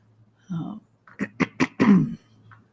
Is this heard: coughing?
yes